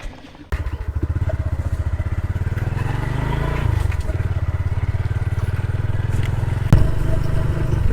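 TVS Stryker 125 motorcycle idling close by, a steady low engine throb starting after a brief quiet moment and running evenly throughout, with a small bump in loudness near the end.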